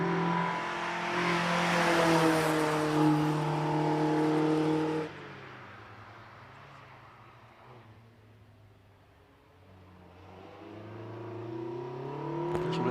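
A 1600cc Mazda MX-5 race car launches off the line at the Prescott hill climb, its engine revving hard and rising in pitch before a gear change, then fading as it pulls away and climbs again.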